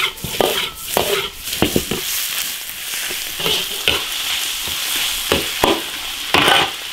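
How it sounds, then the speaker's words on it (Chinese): Soaked dried bamboo shoots stir-fried in an iron wok, a loud continuous sizzle broken by scraping clatters of the spatula against the metal, close up with no talking. "竹笋煸炒1分钟"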